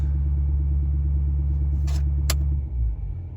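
A Ford 6.7 Powerstroke diesel truck engine runs at high idle, a loud steady close rumble that drops and roughens near the end, with a couple of brief clicks over it.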